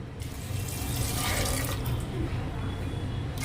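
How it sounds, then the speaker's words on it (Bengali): Water runs steadily from a tap into a pressure cooker holding soaked peas, a continuous close splashing pour lasting a few seconds. "এবার আমি মটরগুলোতে পরিমাণ মতন জল দিয়ে দেবো।"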